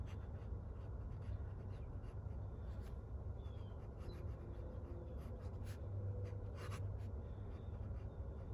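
Fountain pen nib scratching across paper while writing a sample with Ferris Wheel Press ink, a soft, steady, close scratching with small pauses between strokes.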